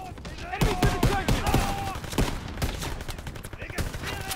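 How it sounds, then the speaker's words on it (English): Gunfire in the Call of Duty WW2 video game: a rapid string of loud shots and bursts, near and dense, running through the whole stretch with some voice underneath. "what is shooting me?"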